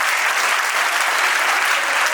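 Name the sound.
audience applause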